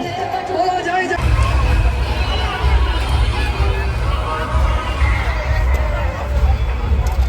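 Dense crowd hubbub at the Bhavnagar Rath Yatra chariot festival in India, a loud continuous mass of overlapping voices and chatter that swells up after the first second and stays steady throughout, close and surrounding.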